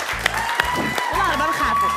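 Audience claps in a lively, uneven burst during a comedic show, with voices and shouts mixed over the clapping throughout.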